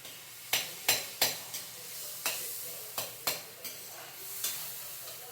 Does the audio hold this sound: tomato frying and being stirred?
yes